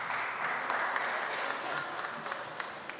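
Applause from an audience at a charity fundraiser event, a steady moderate wash of many hands clapping, slightly distant, with voices faintly mixed in.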